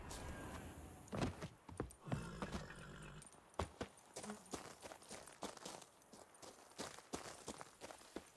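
Horse hooves clip-clopping in The Witcher 3: Blood and Wine, a close, irregular run of hoofbeats with no talk.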